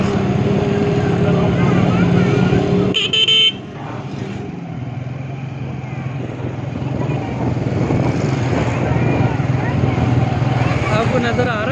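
Busy road traffic with cars and motorcycles passing close by, engines droning steadily and a horn tooting briefly near the start, while people talk over the din.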